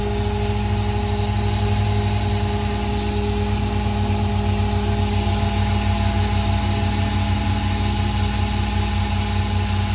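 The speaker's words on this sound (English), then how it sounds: "Super quick compressor, fills up the pressure really quickly." Air compressor on a 2019 Peterbilt 337 mechanics truck with a PX9 diesel runs steadily as it builds pressure, a loud constant mechanical drone with a low pulsing thrum and hissing air, unbroken throughout.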